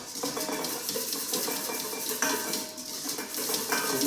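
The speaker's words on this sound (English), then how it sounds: "we whisk in as we do that" A whisk scrapes and clinks rhythmically against a bowl while a homemade ice cream custard mixture is beaten, a steady close-up metallic tapping and swishing with no talk.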